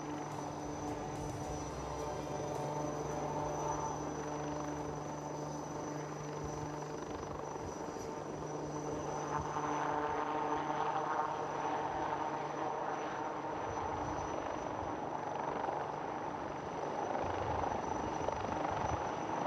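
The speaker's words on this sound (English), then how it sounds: "There she goes, ladies and gentlemen, the mighty Sukhoi-30 MKI, taking off and turning left." A Sukhoi-30 MKI fighter jet takes off and turns at the Aero India 2021 air show, a sustained, moderately distant engine roar with a steady tonal drone and no talk.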